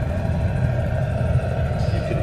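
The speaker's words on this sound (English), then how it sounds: "That is the sound of some intense heat coming out of there" An open glassblowing furnace in a Stourbridge workshop gives off a steady, loud, low roar of intense heat, constant and unbroken throughout.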